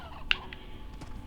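Chickens in the Slime Rancher video game give a short, faint clucking call with a sharp squawk near the start, followed by quieter chirps over a low background hum.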